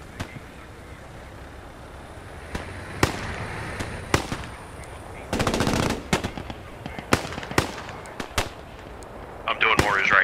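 Mortar and gunfire in the World War II shooter Post Scriptum during an Arnhem Bridge battle, with sharp scattered shots and bursts of automatic fire, some near and some distant, under occasional voice chatter.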